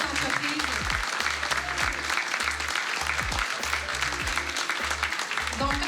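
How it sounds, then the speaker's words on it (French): An audience at a charity auction applauding the participating businesses: sustained, dense clapping from a room full of people, with a voice speaking intermittently over it. "j'aimerais qu'on donne une main d'applaudissement à toutes nos belles entreprises"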